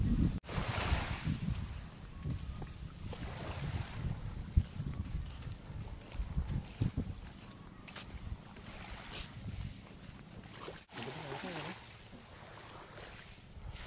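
Choppy sea waves wash and slap around a boat off the Romblon islands, a steady broadband rush with gusty wind buffeting the microphone throughout.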